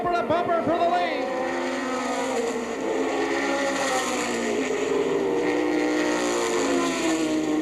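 Race cars thunder down the back straightaway in a short-track race, a dense continuous engine roar with shifting pitch sweeps, loud and steady throughout as a commentator talks over it.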